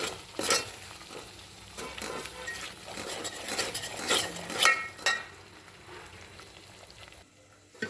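Mutton pieces fry and get stirred in oil, with intermittent scraping clinks of a spoon against the pan over a soft sizzle, fading quieter near the end.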